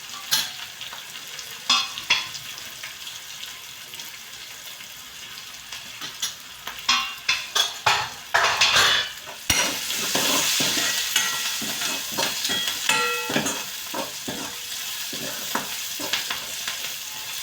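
Chopped onion sizzles loudly in a hot pan while a spoon stirs it, with repeated sharp scraping strokes over a continuous close frying hiss.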